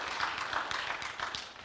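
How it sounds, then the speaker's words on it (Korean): Congregation in a church service clapping together, a steady dense patter of applause filling the room for a couple of seconds with no voices over it. "박수로 환영해 주시기 바랍니다"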